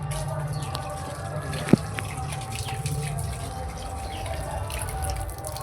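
Water running and dripping while someone washes their feet; a steady low wash of flowing water with one sharp splash or knock partway through, and no talking.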